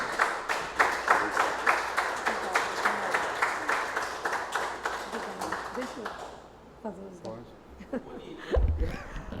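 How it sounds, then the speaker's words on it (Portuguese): Applause in a city council session, with a room of people clapping in a loud steady rhythm for about six seconds before it dies away and someone starts speaking. "Uma salva de palmas, presidente, nesse momento."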